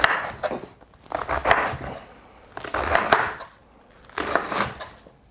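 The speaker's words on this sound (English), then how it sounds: "Let me cut into that. So I usually just slice it up into big chunks" Knife cutting vegetables into big chunks on a board, three or four bursts of crunchy slicing separated by short pauses, close and fairly loud.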